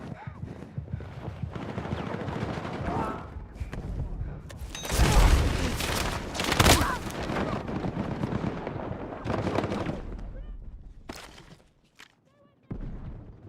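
Heavy shotgun blasts in a first-person shooter game, two loud booming bursts standing out amid scattered game noise and ongoing talk.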